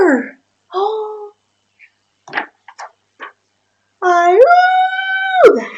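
A dog-like howl rises at the end in a long, loud, wavering call that climbs and then falls sharply, preceded by shorter whimpering cries and a few faint knocks; the howl may be voiced by a person imitating a dog.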